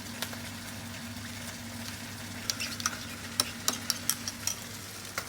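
A spoon stirs tomato paste loosened with red wine in a pot for a beef bourguignon, a steady wet scraping with a soft sizzle underneath and a flurry of light clicks toward the end, heard up close.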